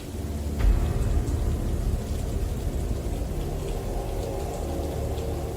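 Heavy rain pours down steadily in lion country, a dense, continuous hiss of downpour with a brief louder gust or rumble near the start, then an even wash of falling water.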